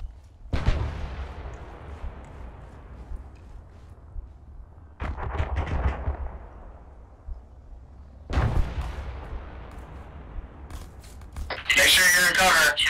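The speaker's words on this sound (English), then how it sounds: "airstrike's coming in" Airstrike explosions in the military video game ArmA, three heavy, booming blasts several seconds apart with long rumbling decays, followed by a sharp burst of noise at the end.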